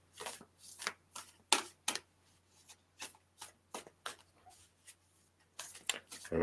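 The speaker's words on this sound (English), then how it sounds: "And I'm going to shuffle." A deck of playing cards is shuffled in a series of quick riffling bursts, crisp and close, with short pauses between each pass.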